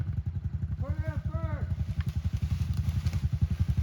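Small pit bike engine struggling in first gear in mud, a close, lumpy low putter chugging steadily, with a brief voice heard over it.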